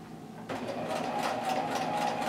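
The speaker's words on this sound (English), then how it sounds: "So now I'm just going to backstitch." A sewing machine backstitching while making a rope bowl starts up after a brief pause and runs in a steady, close, whirring mechanical hum with rapid stitching pulses.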